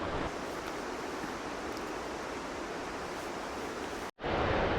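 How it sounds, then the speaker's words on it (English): Fast-flowing mountain stream in a Montana alpine forest, a steady loud broadband rush of water holding throughout, with a brief dropout near the end before the roar resumes. "The water flow this year is insane."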